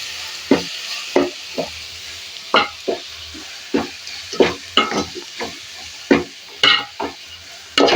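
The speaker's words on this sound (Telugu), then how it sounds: "ఇప్పుడు ఇవన్నీ బాగా కలిసేటట్టు కలుపుకోవాలా." A spoon stirs turmeric and chili powder into a mixture for chicken saarva, making a run of close scraping, sizzling strokes at an uneven pace with no speech.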